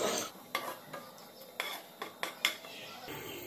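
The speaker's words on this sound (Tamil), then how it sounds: "நெய் சூடானதும் கொஞ்சமாக முந்திரி பருப்பு நல்லா ஃப்ரை பண்ணிக்கோங்க" Cashew nuts frying in ghee in a pan while being stirred, with a soft steady sizzle and a few distinct scrapes and clinks of a utensil against the pan, close and fairly quiet.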